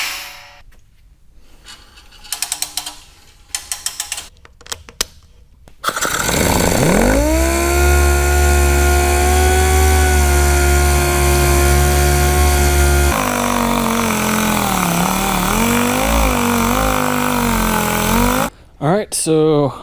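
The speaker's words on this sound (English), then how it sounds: "instead of sanding by hand, I am using a DA sander with very light pressure" A DA sander runs with very light pressure over the backer board of a car headliner. A loud, steady, close motor whine lasts about twelve seconds, with the pitch shifting partway through, after some brief clattering handling noises.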